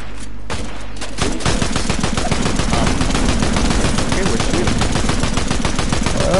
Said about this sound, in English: We're shooting randomly.